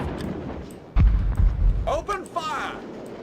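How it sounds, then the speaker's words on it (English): In the video game Warhammer: Dark Omen, a cannon fires uphill with a single heavy, low boom, close and loud. A brief voiced unit response follows over steady game ambience. "Now this is a pretty tough shot for my cannon"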